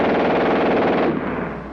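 A German machine gun fires one unbroken, very rapid burst, a dense roaring rattle that is loud and close, then cuts off abruptly, leaving a brief fading echo.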